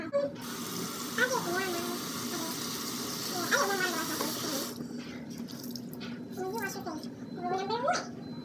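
Water running from a sink tap during face washing, a steady nearby gush that cuts off partway, with a person talking over it throughout.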